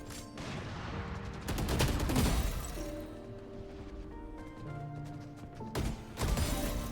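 Video game gunfire rings out in dense bursts across the whole stretch, with sharp shots and crashing impacts layered over steady in-game background noise, loudest around the middle and again near the end.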